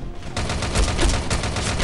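Rapid automatic gunfire in the shooter game Frontline Commando: Rivals, a loud continuous burst of closely spaced shots throughout.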